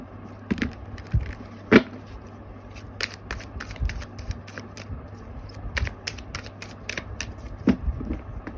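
Tarot cards are shuffled up close, with repeated crisp riffling snaps and soft slides in an irregular rhythm over a quiet room hum.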